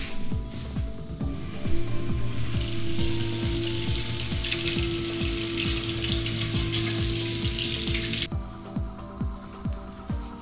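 Shower water runs over hair to rinse it, a broad rushing spray that starts and stops abruptly, with a fast, regular mechanical ticking heard throughout.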